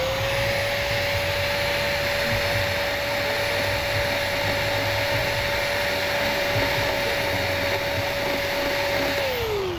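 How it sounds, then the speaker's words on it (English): An Arbortech Allsaw AS170 cutting out the mortar between bricks gives a loud, continuous high-pitched motor whine with gritty grinding, steady for nearly ten seconds before the pitch drops as the blade winds down. "that's removing the mortar without hitting the brick above and below it"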